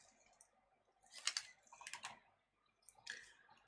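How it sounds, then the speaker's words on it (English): Tape peeled off a tablet digitizer during a Yuntab K17 screen repair, giving faint, close crackling rips in three short bursts separated by near silence. "now we have to peel off the tape"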